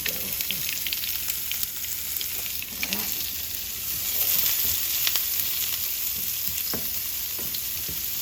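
Food sweating down in a couple tablespoons of oil in a very hot skillet on the stove, a steady sizzle and crackle with occasional sharper pops and stirring clinks, continuous and close.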